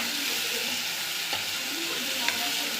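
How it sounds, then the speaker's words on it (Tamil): Dried fish frying and sautéing in hot oil for a Tamil kuzhambu, giving a steady, fairly close sizzle with faint stirring scrapes and no one talking. "கருவாடு போட்டு நல்லா வதக்கி எடுத்துடணும்."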